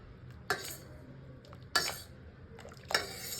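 Lentils for sambar being mashed in a pot, heard as three sharp utensil knocks and scrapes against metal at roughly even intervals, close and fairly quiet with no talk.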